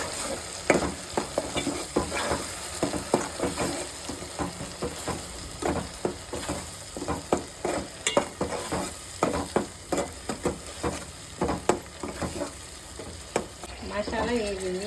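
Masala paste is stirred in a hot pan for a chicken curry, rapid rhythmic scraping and clacking of a spoon over a steady sizzle, close and busy throughout.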